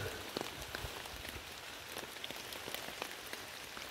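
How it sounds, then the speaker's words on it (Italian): Light rain falls steadily through a forest during autumn mushroom hunting, a dense patter of drops on leaves and ground with scattered sharper drips close by, continuous and even throughout. "La pioggia continua"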